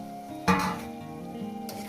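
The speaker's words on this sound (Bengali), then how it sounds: "এইভাবে একটু কষিয়ে নেব কষানোর মধ্যে না ধনে পাতাটাও দিয়ে দেব" Spice paste with coriander leaves sautéing in a pan for a catla fish belly curry, a steady close sizzle with a sharp stir and clatter near the start, then continued frying.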